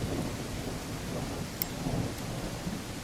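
Heavy rain pours steadily in the game Greenhouse, with a rumble of thunder rolling beneath it and a brief crack partway through, all without voices.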